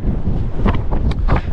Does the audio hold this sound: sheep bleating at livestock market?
no